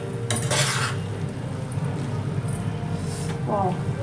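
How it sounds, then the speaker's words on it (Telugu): Spoon stirring coriander powder into a green chilli and peanut curry in a pot, with scraping and clinking strokes over a steady low background and a brief voice near the end. "ఒకటిన్నర స్పూను ధనియా పౌడర్ వేసుకోండి చాలా బాగుంటుంది ఇది ఇంత మంచిగా కూరకు కలిసేలాగా కలుపుతున్నాం"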